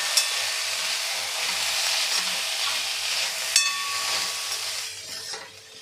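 Chopped tomato is stirred into moth bean usal in a hot pan, making a continuous soft sizzle and hiss with occasional spoon scrapes and clinks, which quietens toward the end.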